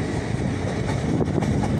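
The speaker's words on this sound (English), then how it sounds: "here goes a Trans Pennine Express Class 802 with a service to Liverpool Lime Street" A TransPennine Express Class 802 train departs York station bound for Liverpool Lime Street, a loud, steady rumble of rolling stock with faint wheel clatter, close by and continuous.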